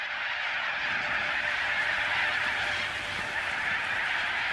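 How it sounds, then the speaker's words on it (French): A large flock of little corella cockatoos in rural Australian farmland gives off a continuous dense wash of screeching calls. The sound stays steady and loud throughout, with no talk over it. "le Cacatoès corella est un oiseau charmant"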